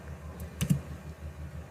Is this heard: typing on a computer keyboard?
yes